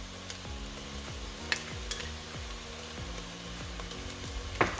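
Browned onions with ginger garlic paste sizzle and fry in a pan for mutton curry, a steady crackle under repeated scraping stirs of a spoon, with a few light clinks against the metal.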